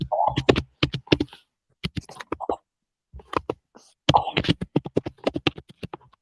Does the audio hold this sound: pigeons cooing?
no